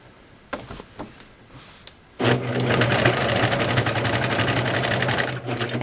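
A serger sews the edge of a pillow, starting abruptly after a few soft clicks and then running as a fast, steady, close mechanical whir with a low hum until the end.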